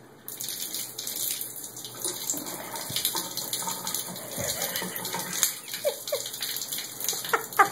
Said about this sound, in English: Run the water.